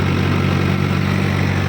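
A 60 HP tractor engine idling at 1100 RPM, a steady low droning hum with an even pulsing throb, close and loud with no talking.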